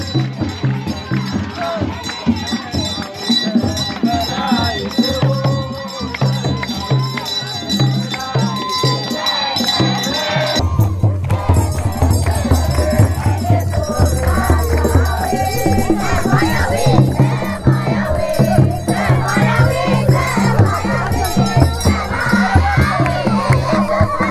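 Dense, loud crowd noise at an Epiphany festival procession in Ethiopia, with many voices, chanting and shouts in a continuous roar, the mass swelling fuller and heavier partway through as people carry a carpet along.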